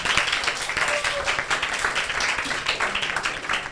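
A crowd at a summer tech academy for teens keeps clapping for a welcomed guest, a dense, even patter of many hands at moderate loudness that carries on unbroken.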